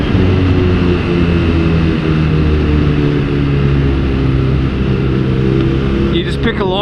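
A BMW R nineT motorcycle drones steadily as it is ridden through corners, its engine note holding a smooth, constant hum close to the microphone, with a brief change in tone near the end.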